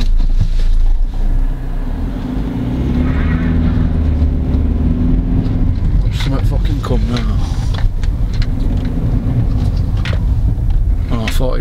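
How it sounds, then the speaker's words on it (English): A car engine rumbles at close range with a steady low drone while people talk over it, and the sound shifts partway through as the car reverses. "I'm gonna reverse up here."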